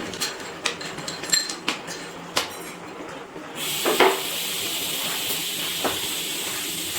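Jaggery batasha is stirred into milk in a pot for raw papaya kheer: sharp metal spoon clinks against the pot at first, then a steady hiss of heat rises and continues under a few more taps.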